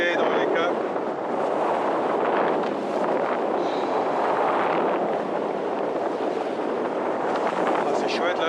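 Wind rushes constantly over the microphone while wingfoiling on open water, a loud unbroken roar lasting the whole stretch with faint splashes beneath.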